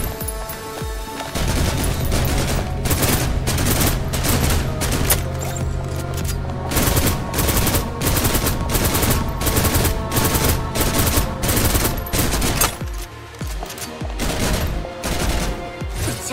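In the video game Snowbreak, rapid gunfire crackles in long automatic bursts, loud and close, with short pauses between volleys and no voices.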